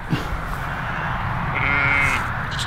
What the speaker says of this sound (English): Hello sheepy.